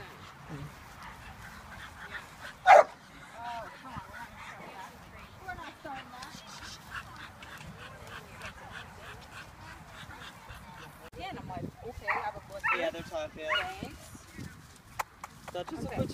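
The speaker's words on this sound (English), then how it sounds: "What a cute puppy." A puppy barks at an animal control shelter playgroup on a volunteer day, with sharp yaps, one standing out loudly, over steady chatter and moving dogs.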